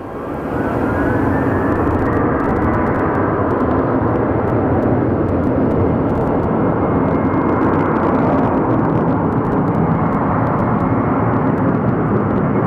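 An Alaska Airlines Boeing jet thunders past at Phoenix Sky Harbor, its engines building quickly into a loud, sustained roar that holds steady for over ten seconds, with no talking.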